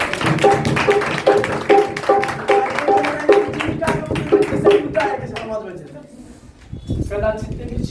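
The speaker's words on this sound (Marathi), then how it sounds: "जे काल नव्हते त्यांनी टाळ्या वाजवा." A church congregation claps hands together in a steady, fairly fast rhythm at a Sunday service. The clapping is loud and close and runs under a voice speaking over it, then fades and stops.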